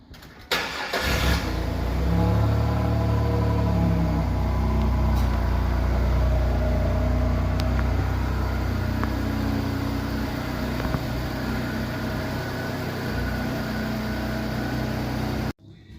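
A rebuilt, previously totalled 2001 Pontiac Firebird cranks briefly, then catches and settles into a loud, steady idle that runs nearly the full length before cutting off abruptly, with no voices.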